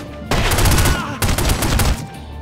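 Gunfire in The Godfather video game, rapid automatic bursts of loud, close shots in two sustained volleys separated by a brief pause.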